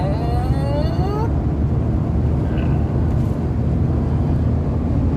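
Car accelerating hard in fifth gear while chasing a Kerry delivery truck, a loud steady engine drone with a rising whine early on, continuous and close with heavy road rumble.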